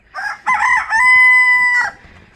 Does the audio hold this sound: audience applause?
no